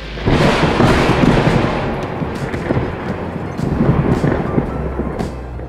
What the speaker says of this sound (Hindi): कुछ दिनों बाद जंगल में जोरदार तूफान आता है।